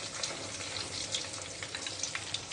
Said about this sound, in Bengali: মুইঠাগুলো আমি এটার মধ্যে ছেড়ে দিলাম।